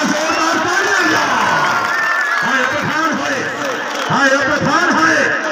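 Crowd at an outdoor kabaddi festival at a shrine fair in Mankera, Bhakkar, cheering and applauding loudly and continuously, with shouts and whoops rising and falling over a commentator's voice.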